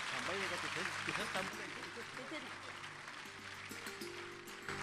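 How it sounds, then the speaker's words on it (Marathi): An audience at a Marathi award ceremony applauds, a steady wash of clapping continuing beneath a voice. "जोरदार टाळ्या होऊन जाईल."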